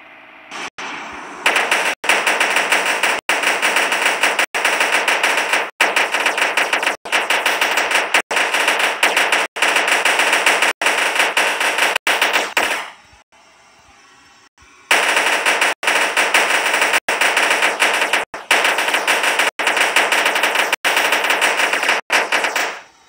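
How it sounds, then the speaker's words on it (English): Rapid automatic gunfire in the video game Blocky Cars, loud and close, fired in long sustained bursts that break off briefly about halfway through before resuming. "Why is everybody shooting at me?"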